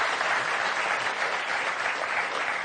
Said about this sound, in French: On vous a applaudi quand même très très fort